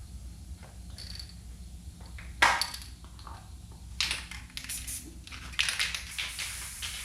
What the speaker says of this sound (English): Well, I'm gonna get to spraying.